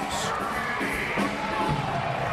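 Sunday-afternoon volleyball crowd at Gill Coliseum, Oregon State facing Stanford, roaring and cheering after an ace serve; a dense, steady wall of shouts and whoops fills the arena throughout, with scattered cries rising above it.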